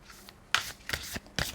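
Tarot cards are shuffled by hand in three quick crisp bursts of riffling and sliding, close and clear with no talking.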